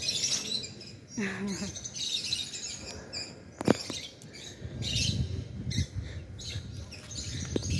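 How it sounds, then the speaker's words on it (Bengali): Small birds chirp and tweet in short bursts outdoors among leafy greens on a college campus in Chittagong, with a steady ambient background and a sharp clatter midway. "কণ্ঠগুলো শুনুন, কিচির মিচির করতেছে"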